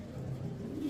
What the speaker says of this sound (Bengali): দেখেন আগে কি কবুতর এটা?